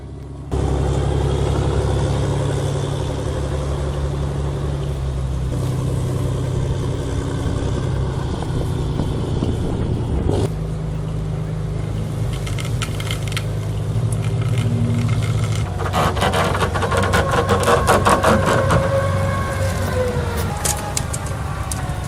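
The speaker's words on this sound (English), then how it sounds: "The powerful engine, combined with the amphibious track system, created a powerful mechanical spectacle in the frozen wilderness." Heavy amphibious tracked tractor engine running steadily in a frozen wilderness, a loud continuous low rumble with mechanical clatter that grows busier and rattling toward the end.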